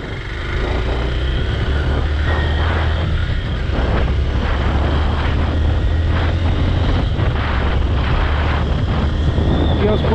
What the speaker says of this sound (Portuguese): A moto já tá urrando já.